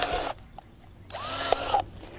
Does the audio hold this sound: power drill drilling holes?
yes